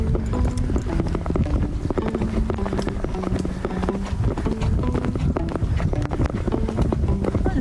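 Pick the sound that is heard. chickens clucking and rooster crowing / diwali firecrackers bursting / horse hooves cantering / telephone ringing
horse hooves cantering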